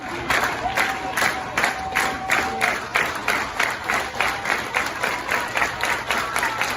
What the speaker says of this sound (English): There's a lot of clapping in this game.